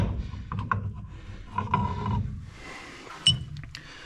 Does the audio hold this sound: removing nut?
yes